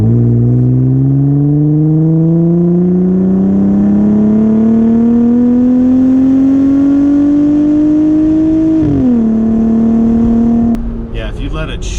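A 2020 Jeep JLUR with a K&N exhaust accelerates hard, its engine drone rising steadily in pitch for about nine seconds, dipping at a gear shift, then climbing again, loud and close before a sudden rustle at the end.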